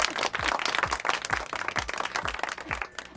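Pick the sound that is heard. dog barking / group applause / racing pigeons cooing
group applause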